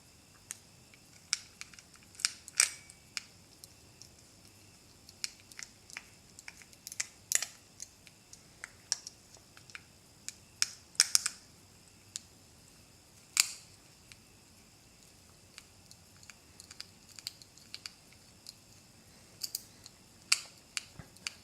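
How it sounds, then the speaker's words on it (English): A screwdriver takes Phillips head screws out of an FM transmitter case. Sharp, faint, scattered clicks and small ticks of metal and plastic are heard up close against a quiet background. "These are two Phillips head screws which have to be removed."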